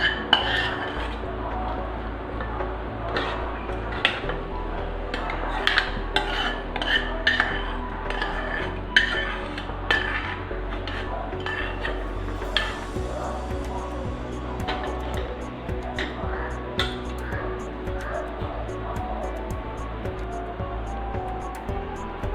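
A metal spoon stirs tempering into ven pongal in a cooking pot, making irregular clinks, taps and scrapes against the pot over a low background hum, close and fairly quiet.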